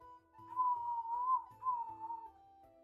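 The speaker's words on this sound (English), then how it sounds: "I'm whistling to the theme of the music." Someone whistles a tune close by, two wavering melodic phrases with a brief pause between them, clear and fairly loud.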